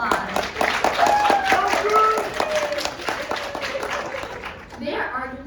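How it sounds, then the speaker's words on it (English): Audience clapping during a university president's State of the Campus speech, a dense patter of hands kept up for several seconds under and alongside overlapping talk, then trailing off. "Yes, applause."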